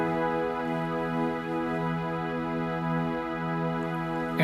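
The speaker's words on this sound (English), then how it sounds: "Use a piano, layer it with a pad," Piano layered with a soft pad and strings holding a smooth sustained chord, steady and gentle throughout, for a worship song, Forever Reign, with no voices.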